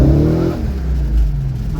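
A supercharged C5 Corvette Z06 accelerating hard, its engine roaring loud and close in a sustained rising pull with no talking.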